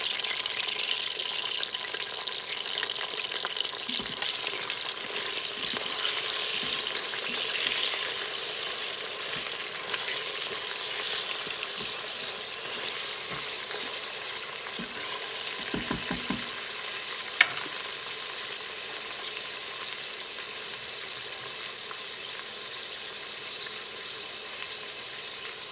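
Pork butt and onions sauté in a pot, giving a long, even sizzle up close with occasional faint clinks and stirring sounds.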